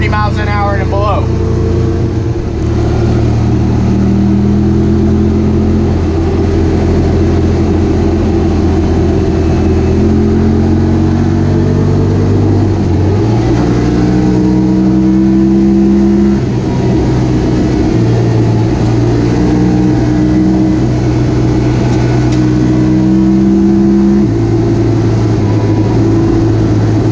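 A Honda Talon 1000R side-by-side engine accelerates hard through the woods, revving up and climbing repeatedly as the gears change, loud and close, while someone talks over it.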